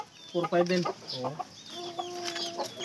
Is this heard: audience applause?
no